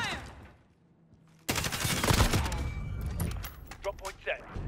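Call of Duty multiplayer gunfire erupts after a quiet stretch, a loud sustained burst of rapid shots followed by scattered cracks, mixed with game voice callouts.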